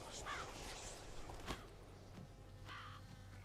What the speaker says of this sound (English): What was that? A raven?